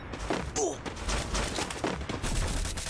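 Rapid gunfire bursts and thumps from a shooter video game crowd the mix, loud and continuous, with a voice talking partly underneath.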